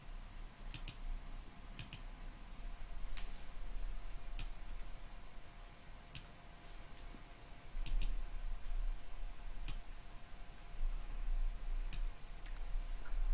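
Sharp, isolated mouse clicks while working in Inkscape graphic design software, spaced irregularly every second or two over a low steady room hum, close and fairly quiet.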